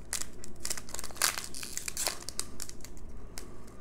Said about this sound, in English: why don't we open up the shiny VMAX Charizard pack?